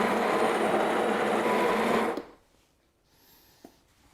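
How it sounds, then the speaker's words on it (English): A Sage Barista Express BES875 espresso machine's built-in burr grinder grinds coffee beans with a loud, steady whir for about two seconds, then stops abruptly, leaving near silence with a faint click. "Just activate the grinder."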